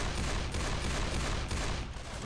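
Gunfire in the video game Left 4 Dead 2, a dense, muffled burst of rapid shots running continuously at moderate distance, without any talk.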